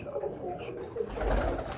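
Teddy breeder pigeons give a short burst of soft, low cooing, close and quiet, with a rumbling thump near the end.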